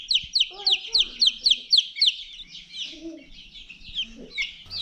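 Four-week-old Golden Comet chicks in a brooder, a run of rapid, evenly spaced high peeps followed by softer clucks and chirps, close and clear, with a few low murmurs underneath.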